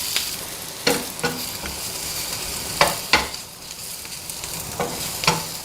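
Chopped capsicum sautéing in a pan for a paneer capsicum curry: a steady close sizzle broken by several sharp scraping stirs of a spatula, with no voices.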